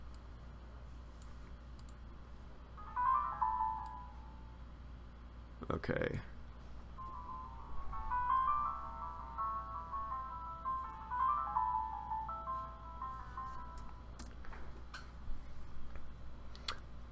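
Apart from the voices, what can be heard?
Sibelius notation software playing back composed music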